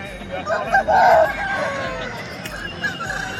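A rooster crows once, loud and close, in a strained rising call, amid a noisy market background with scattered voices.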